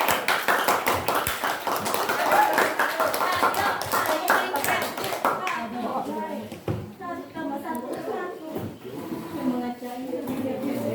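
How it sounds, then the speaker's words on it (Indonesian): A classroom of students claps for a group after their presentation in a biology lesson, a rapid, uneven burst of many hands lasting several seconds before a teacher's voice and children's chatter take over. "Kita beri tepuk tangan dulu untuk kelompok."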